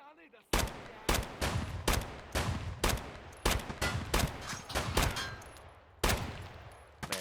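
Escape from Tarkov shooter gunfire on the Shoreline map, about a dozen sharp single shots fired at an uneven rhythm of roughly one or two per second, close and loud, each with a short ringing tail.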